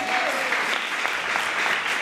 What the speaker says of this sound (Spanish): ¿Le quiere dar esas palmas al Señor?